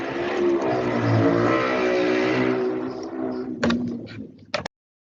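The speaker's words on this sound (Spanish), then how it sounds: "Escuché una moto ahí, escuché una moto." A motorcycle engine roars loudly nearby and fades as it passes, followed by a couple of sharp knocks.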